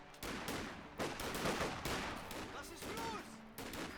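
Rifle gunfire from USF riflemen in a long-range engagement in Company of Heroes 2, a dense battle fusillade of repeated shots and bursts with faint voices mixed in.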